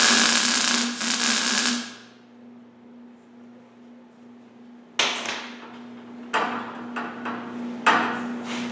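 A MIG welder gives a brief crackling buzz while tacking the down tubes of a motorcycle frame during repair, followed by a quiet gap and then several sharp metallic clanks and knocks close by.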